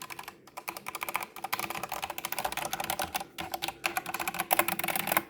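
Fingers type quickly on a Red Dragon K630 60% mechanical keyboard, a dense, close stream of crisp clicky keystrokes with brief pauses, fairly quiet and heard alone.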